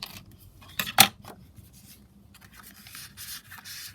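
Paper scraps trimmed with scissors: soft, close rustling and rubbing of paper with one sharp snip near the first second, then faint scraping and cutting sounds at low level.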